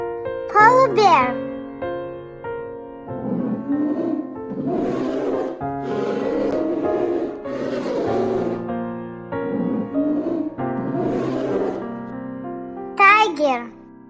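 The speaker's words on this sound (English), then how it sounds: "Polar bear." A polar bear growls and roars in a sustained, rough run through the middle, with a voice briefly heard at the start and end.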